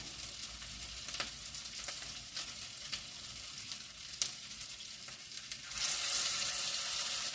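Buckwheat and zucchini patties frying in a pan give a steady, close sizzle with scattered pops, growing louder and brighter near the end, with no voices.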